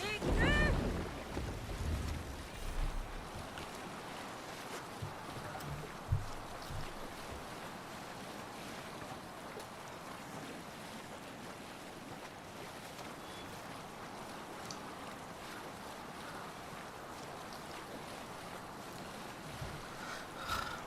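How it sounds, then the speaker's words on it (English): A sailing boat moves through the sea in the Assassin's Creed Valhalla video game, with a steady low wash of waves and wind that stays faint and unbroken throughout. "Let's sail! Let the sail out!"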